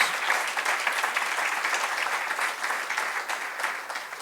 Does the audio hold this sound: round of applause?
yes